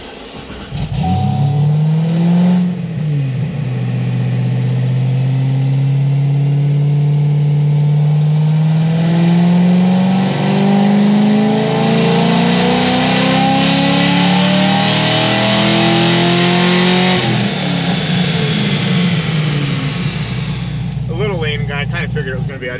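A cam-only LS3 V8 with a pinned crankshaft revs on a dyno. The engine rises through a long, loud sweep with a climbing roar, holds near the top, then drops back to idle, all close and continuous.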